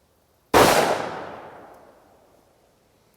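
A single loud 10mm pistol shot with a solid copper bullet, fired over a chronograph from a Springfield Armory XD-M Elite 3.8-inch Compact OSP, cracks sharply and then rings away for about two seconds, with no talking.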